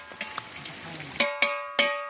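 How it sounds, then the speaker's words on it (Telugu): Whole spices sizzle in a pan of hot oil for vegetable biryani; a soft crackle opens, then three sharp metallic clinks ring out as a spoon strikes the pan. "బాగా వేగింది ఫ్రెండ్స్."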